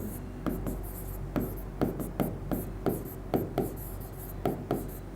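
Chalk or marker writing on a board during a physics lesson on electric field lines, a steady series of short scratchy strokes in quick irregular rhythm, close and moderately quiet with a faint hum beneath.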